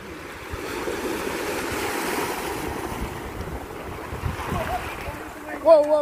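Sea waves wash steadily at the seaside, a continuous broad surf roar mixed with wind buffeting the microphone, with a brief louder splash near the end.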